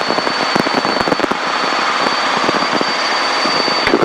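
A small airplane's engine drones steadily in flight at night over Los Angeles, heard from inside the cabin as a loud, constant hum with a faint high whine and scattered crackles.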